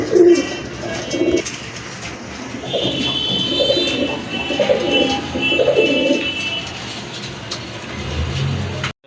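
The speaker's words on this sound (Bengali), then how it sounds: "এই যে নিচে বসে আছে ডাকতেছে, এটা হচ্ছে আপনার নর কবুতর" A male Rajgolla pigeon coos close by in a few low, throaty bursts, with other birds and a passing car faintly in the background.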